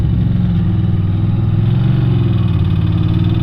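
Ducati 600 Supersport motorcycle climbing a hill, its engine a loud, close, steady low drone with a slight rise in pitch partway through, alone without speech.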